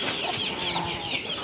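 A brooding hen recently off her eggs clucks softly and repeatedly in a coop, close and fairly quiet, with no talk.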